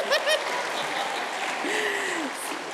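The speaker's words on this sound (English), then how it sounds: "I didn't even have to ask for a round of applause." A keynote audience applauds in a steady wash of clapping. A brief voice and a rising whistle-like tone rise above it.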